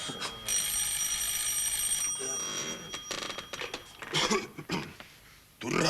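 An old telephone bell rings shrilly and continuously for about two seconds in a Finnish comedy film scene, followed by clattering handling noise.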